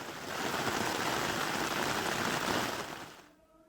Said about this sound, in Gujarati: વહેલી સવારે વાતાવરણમાં પલટો આવ્યો અને પછી ધમાકેદાર વરસાદની શરૂઆત થઈ